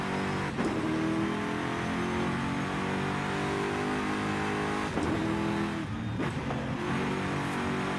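Car engine in Forza Horizon 5 held at high revs while racing, a loud continuous drone with sharp dips and re-rises around gear changes, alone with no talk.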